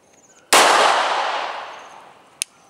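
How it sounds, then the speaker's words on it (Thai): A single sharp pistol shot, fired while aiming along the slide edge instead of the sights, rings out loud and close with a long fading echo, followed by a brief light metallic ping. "เป็นการยิงโดยใช้ขอบสไลด์ยิงนะครับ"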